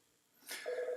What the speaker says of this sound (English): you're going to do what you can hear in the background right now, and that is my phone ringing